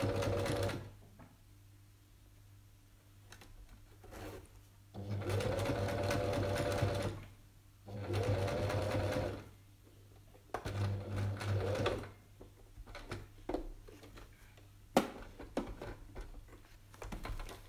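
A sewing machine runs a top stitch along a crossbody cellphone pouch in several bursts of rapid, steady stitching, separated by quiet pauses and small handling noises.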